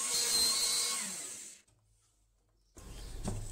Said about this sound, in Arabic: نحفر الثقب الأول ونحاول ألا نتجاوز ذلك الخط